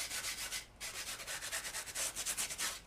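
Sandpaper is rubbed back and forth over a sectional wargame terrain dirt road piece, a close, steady series of rhythmic scratchy strokes with a brief pause early on.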